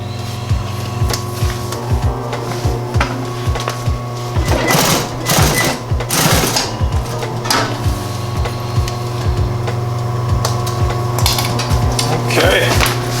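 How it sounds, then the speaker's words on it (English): An industrial sewing machine stitches a leather duffle bag in quick, steady bursts of rapid mechanical clatter, pausing briefly between runs, close and clear with a faint background hum. "make sure the handle is all flowing in the same direction when you're sewing this together"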